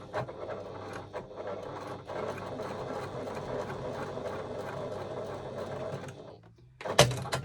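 A sewing machine stitches a fabric pouch in a steady rapid whirring run of about six seconds, followed by a brief pause and a short mechanical clunk as the back stitch finishes, close and clear.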